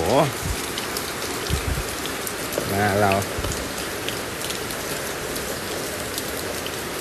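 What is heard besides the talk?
rain falling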